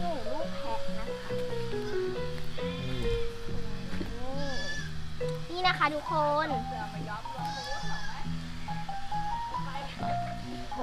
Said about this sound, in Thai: นี่ อันนี้คือลูกแพะใช่ไหม ใช่พวกลูกแพะ